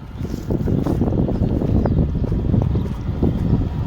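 A motor-driven water pump runs steadily through piped water onto a muddy rice field, a continuous dense churning rumble close by with no talk over it.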